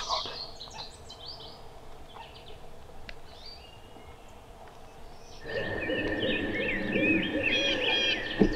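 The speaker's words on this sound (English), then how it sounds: "There's a bird gobbling back way off to our left still." Wild turkey gobbling far off during a public-land hunt, faint bird calls against a quiet outdoor background that grows busier with louder chirping later.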